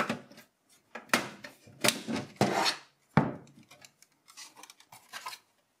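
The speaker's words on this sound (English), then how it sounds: "we need to first remove the front panel" Plastic front panel being pried off an HP Pro 3400 MT desktop PC: a string of sharp clicks, snaps and scraping rubs, close and fairly loud, with short pauses between and no talk.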